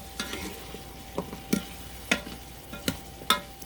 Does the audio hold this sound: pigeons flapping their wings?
no